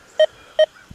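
Short electronic beeps from a Deus 2 metal detector in its mono program come as two evenly spaced clear tones, each brief and loud against a quiet background, with a third starting at the end.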